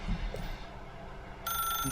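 A telephone rings in the video game The Stanley Parable, starting partway through over a quiet room hum as a faint, steady electronic ring.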